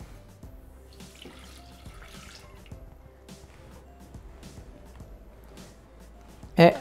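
Milk poured over butter into the bowl of a Thermomix (Bimby) while making pistachio cream: a faint, steady liquid trickle with small drip-like ticks, ending in a short louder knock.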